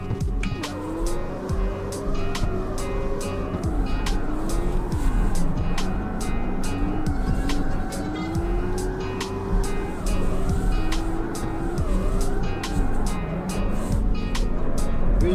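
Car drifting in the CarX Street racing video game, a continuous engine roar with rising and falling revs, tire squeal and rapid clicking effects throughout, loud and steady with no speech.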